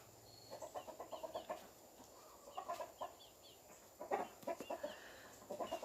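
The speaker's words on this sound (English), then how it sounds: "Let's go get my chickens some feed because they are acting like they're starving to death." Several hungry backyard chickens cluck in repeated short bursts, close and fairly soft, with brief pauses between clusters of calls.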